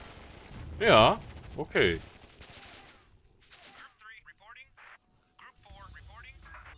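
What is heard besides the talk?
tanks firing back in video game Warzone 2100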